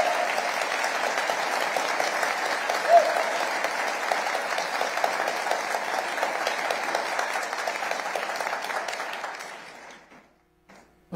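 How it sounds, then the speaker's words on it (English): Long round of audience applause at the 2021 Free Iran Summit, a dense, even roar of many clapping hands sustained for about nine seconds before fading away to quiet. "You could give Marc Short a round of applause"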